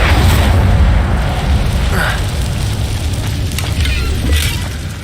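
Incendio, a fire spell in Hogwarts Legacy, erupts as a loud, roaring whoosh of flame, a sustained booming crackle with brief bursts layered over it, close and dense throughout.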